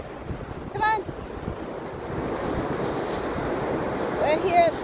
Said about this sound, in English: We're here at Pensecola Beach.